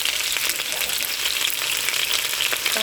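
Minced onion hitting hot oil in an already hot pot, giving a steady, loud hiss and sizzle that carries on without a break, with no talking.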